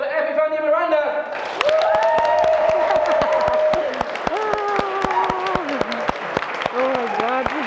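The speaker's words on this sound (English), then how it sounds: "give me a huge round of applause for Eppy and Muranda" An audience applauds a pair of speakers at a live speaking challenge in Manchester, steady clapping sustained across the clip, with a host's voice and whoops rising over the crowd.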